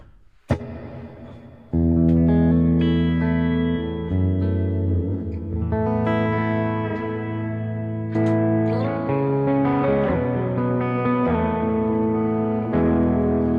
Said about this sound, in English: This is just a clean patch so you can hear the freeze and delay and everything, as well as expression